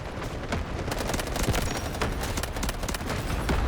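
Artillery barrage explosions in the Delta Force video game, a dense, continuous volley of booming blasts and crackling gunfire that stays loud and steady throughout, with no clear pauses.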